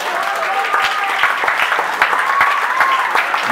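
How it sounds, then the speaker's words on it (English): Crowd applauding at an outdoor college founding day ceremony, steady dense clapping throughout with faint voices and a whistle-like tone mixed in. "Give them an applause,"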